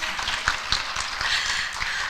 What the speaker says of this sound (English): clap for her now.